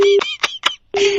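A telephone is dialed: a sustained dial tone, then short separate keypad tones in quick succession, then the tone resumes, close and loud.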